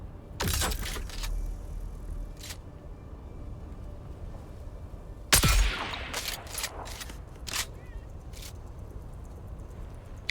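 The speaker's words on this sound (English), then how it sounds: "Are fireworks different in the US? Some can be like really stupid loud." Fireworks burst in loud, sharp cracks, a pair of heavy blasts followed by a scatter of quicker pops and crackles at uneven intervals.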